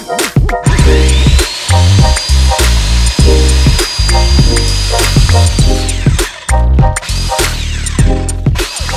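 A power tool trims the top of a post for mounting an Eley hose reel, giving a loud, sustained whine with a brief stop and restart, close up and without talk.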